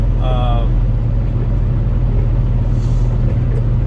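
A car drives into downtown Chicago, its engine giving a steady low rumble and road noise from inside the cabin, with a brief beeping tone near the start.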